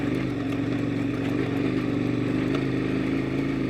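An adventure motorcycle pushes through half a mile of soft, pillowy sand on a desert road, its engine a steady, loud drone that holds at an even pitch throughout with no talking.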